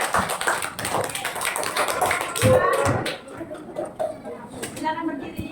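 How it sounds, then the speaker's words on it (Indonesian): Students clap for group 4 in a classroom, a burst of quick, sharp claps that is strongest early and thins out, mixed with chatter and voices. "Tepuk tangan untuk kelompok 4."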